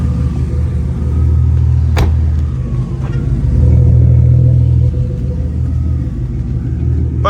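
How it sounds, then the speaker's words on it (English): A BMW E36 M3 idling just after a cold start, a steady low rumbling burble close by that holds even throughout, with a slight swell in the middle and no voices. "I'm gonna let it idle for a few minutes."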